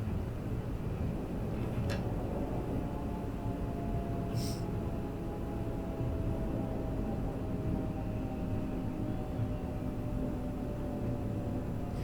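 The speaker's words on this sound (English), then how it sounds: "I don't know if you can hear the wind effects." Steady low rushing wind noise in the video game Train Sim World 5, faint and continuous, with a couple of brief soft clicks and no voices.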